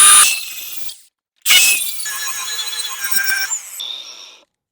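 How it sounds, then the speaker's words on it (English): A small sanding disc grinds down a metal vehicle chassis for a ground connection during a switch panel install, giving a short harsh burst, a brief pause, then a longer, shrill, rising and falling grind close up. "I just got to grind this part down"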